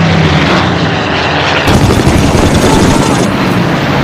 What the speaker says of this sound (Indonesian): Terlihat beberapa pesawat pembawa bantuan sekutu pun melintas di atas langit mereka.